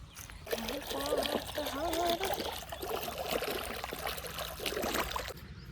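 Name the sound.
water flowing from motor pump into field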